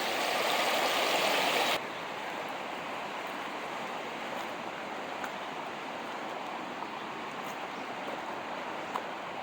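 Steady broadband rush of river water flowing nearby, loud and continuous, somewhat louder in the first couple of seconds then settling to an even wash, with no talking.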